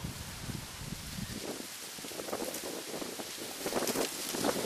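Gusty outdoor wind buffeting the microphone, a continuous rumbling roar with rustling, swelling louder toward the end; no voices.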